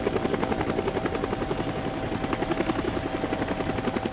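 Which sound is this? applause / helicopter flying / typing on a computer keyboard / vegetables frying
helicopter flying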